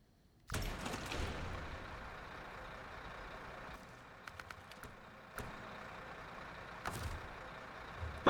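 A heavy truck engine in the off-road driving game SnowRunner kicks in loudly after a brief quiet start and keeps up a steady rumble, with short hissing bursts and clicks breaking through now and then.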